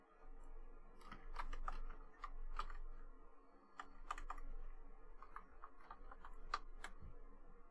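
Keys clatter on a computer keyboard in uneven bursts of quick, close taps with short pauses between runs, over a faint low hum.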